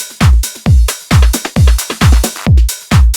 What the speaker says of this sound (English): we're gonna use this snare roll over here, maybe like this. Let's see how this sounds.